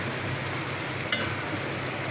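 Spice paste is fried with fish in a pan, a steady low sizzle with one brief scrape of stirring.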